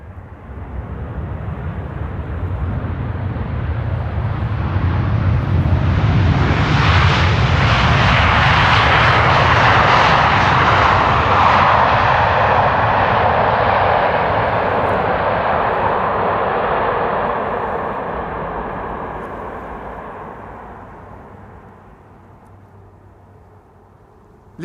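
Delta Airlines Airbus A330neo jet at Amsterdam Schiphol, engines swelling from a distant rumble to a loud close roar, then slowly fading as it passes, alone with no talk.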